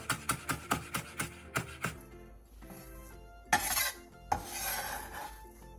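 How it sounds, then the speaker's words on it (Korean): A single green onion (daepa) is chopped finely with a knife on a cutting board in about eight quick, even taps, then some softer scraping and rustling of the pieces, close and clear. "대파 1개를 쫑쫑 썰어주세요."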